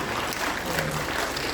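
A church congregation at an evening revival service applauds in a dense, continuous wash of clapping that holds steady throughout the brief moment.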